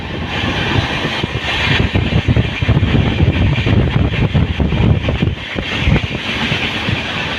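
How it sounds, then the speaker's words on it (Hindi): Bhubaneswar Prashanti Express standing at platform number 4 of a railway station, a steady loud rumble of the train with rhythmic rattling and clatter throughout, no talk. "Bhubaneswar Prashanti express platform number 4 पर खड़ी है।"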